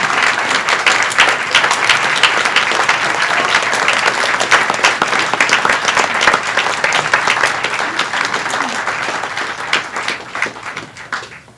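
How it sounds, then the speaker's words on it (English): An audience applauds the OPA signature members at the OPA 2018 National Exhibition. The clapping is dense and loud throughout, then tapers slightly toward the end. "And applaud everybody."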